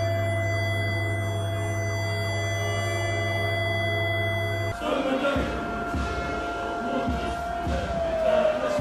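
Civil defense sirens wail during a wreath-laying memorial ceremony in Samsun, a steady sustained tone that cuts off abruptly midway, giving way to crowd noise and outdoor ambience.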